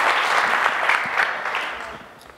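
Steady applause from an audience fills the room, dense clapping that holds for a couple of seconds and then starts to thin toward the end.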